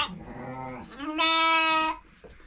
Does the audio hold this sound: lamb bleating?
yes